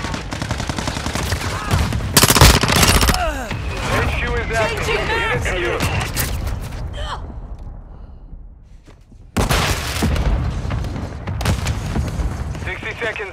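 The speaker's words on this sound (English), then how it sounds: "Hostiles launch the mortar strike" A mortar strike in Call of Duty: Modern Warfare II, with loud booming impacts and crackling gunfire. A short lull follows, then another heavy blast bursts in, while radio-style voices call out over the battle.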